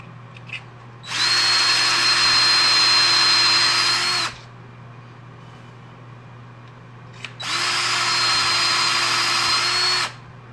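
A cordless drill bores into pen turning blanks in two steady bursts of about three seconds each, loud and close with a constant high whine, separated by a quiet pause over a low background hum.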